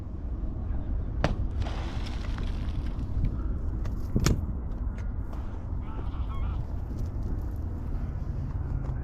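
Geese honk during a goose hunt, scattered calls over a rough outdoor rumble with a few sharp cracks, and no talking.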